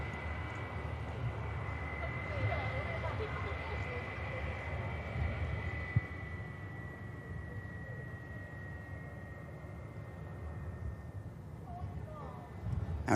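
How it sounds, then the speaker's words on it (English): A British Airways jet lines up on runway 23 right for departure at Manchester Airport, its engines producing a faint, distant, steady whine and rumble over low outdoor ambience. "British Airways is about to line up on 23 right for departure."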